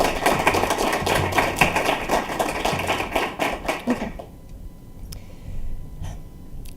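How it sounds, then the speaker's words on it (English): An audience at an MLK lecture claps in dense, loud applause for about four seconds, which then dies away to a quiet room with a few scattered claps. "So let's give a round of applause for them."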